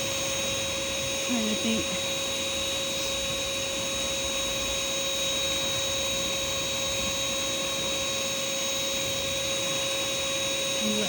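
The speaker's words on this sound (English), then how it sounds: "We'll let this one deflate and then get all the air out of it" Air hisses and drones steadily out of an inflatable U-boat as it is pumped flat, a continuous even rushing with a constant tonal whine, while a voice speaks briefly over it.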